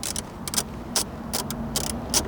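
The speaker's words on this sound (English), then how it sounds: "We're going to use a 10mm socket with an extension." Ratchet with a 10mm socket and extension backing out bolts that hold the central control unit of a 2021-2023 Lexus IS, heard as several short bursts of quick metallic clicking spaced apart, close and clear.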